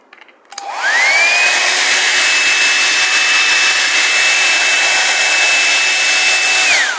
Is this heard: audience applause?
no